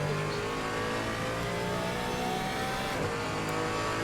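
A GT4 race car rounding the last corner at Paul Ricard in a sim race, its engine loud and revving hard in a continuous high-pitched roar with a brief shift near the end.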